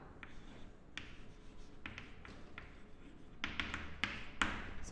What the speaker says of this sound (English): So let me write the output here.